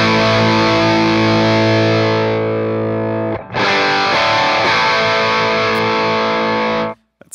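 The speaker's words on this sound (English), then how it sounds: "That's kind of a pleasant like overdrive slash distortion land actually at the bottom there." Loud, heavily distorted electric guitar chord through a Caroline Shigeharu fuzz pedal rings out, briefly cuts, then strikes again with a thick fuzzy buzz before stopping abruptly.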